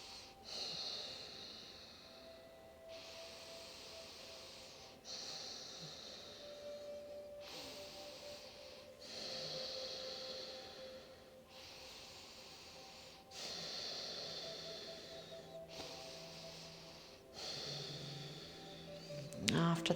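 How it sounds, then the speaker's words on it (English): Slow, deep Ujjayi breathing during a standing yoga balance, long audible inhales and exhales alternating in an even rhythm roughly every two and a half seconds, close and soft. "hold there for 5 deep Ujjayi breaths"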